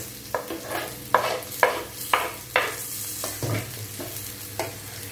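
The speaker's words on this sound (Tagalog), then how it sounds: "Haluin lang siya ng haluin." Onions fry in a pan while being stirred, with garlic in, giving repeated scraping stir strokes in an uneven rhythm over a soft, steady sizzle, close and moderately quiet.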